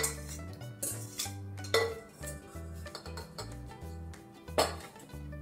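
Eggless brownie batter being mixed in a bowl, with repeated clinks and scrapes of a utensil against the dish and a few sharper knocks, close and fairly quiet, no talking.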